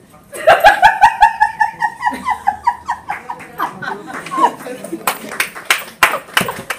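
Clapping during a blindfold makeup challenge: laughing, giggling voices come first, then a run of sharp, fairly loud hand claps near the end, uneven at first and then quicker.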